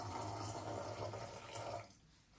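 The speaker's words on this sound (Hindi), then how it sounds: "और अब इसमें मैं थोड़ी सी ना गर्म पानी मिला दूंगी।" Warm water pours into a container for homemade butter, giving a soft, continuous trickling splash that stops abruptly near the end, quiet and close.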